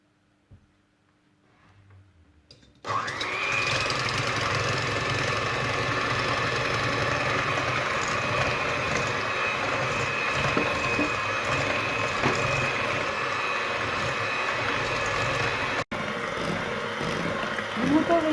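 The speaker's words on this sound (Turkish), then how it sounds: "şekeri 5 dakika çırptım" An electric mixer whips sugar for a light, moist cake batter, starting after a quiet pause and running as a loud, steady whir for the rest of the clip with a brief cut near the end.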